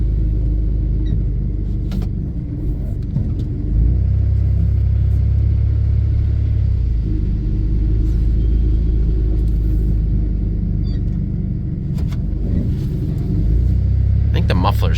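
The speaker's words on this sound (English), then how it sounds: "I think the muffler's rattling." A 1993 Dodge Caravan idles and rumbles loudly up close, its engine swelling as it revs, with a rattling muffler underneath and a voice talking over it.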